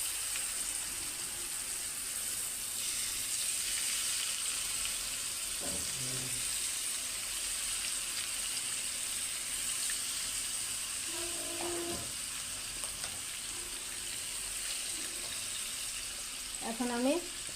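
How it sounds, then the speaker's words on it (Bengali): Marinated fish frying in oil with bay leaves, a steady broad sizzle running throughout at moderate level, with a few brief clinks and faint tonal kitchen noises breaking through. "আমি মাছটাকে এখন ভেজে নেব।"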